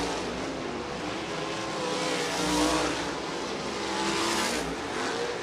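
A sprint car roars around the Ocala Speedway oval in a USAC National Sprints race. The engine swells and fades as it passes along the front straightaway after turn four, loud and continuous.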